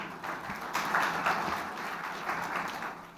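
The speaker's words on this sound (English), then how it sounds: "a big round of applause to the finalists one more time" Audience applause for the finalists at the TCS CodeVita Season 13 grand finale in Mumbai, a broad sustained clapping from a large crowd that swells briefly in the middle and carries on evenly without any talking.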